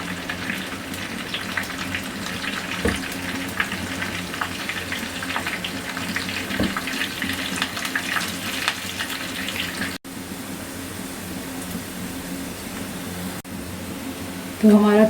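Cumin, thick chillies, garlic and curry leaves sizzle in hot oil as a tadka, sending up a steady, hissing crackle. A brief louder sputter comes near the end, and no one speaks.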